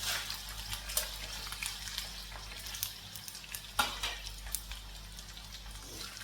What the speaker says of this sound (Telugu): సో అందుకని నార్మల్గా ఫ్రై చేస్తున్నాను.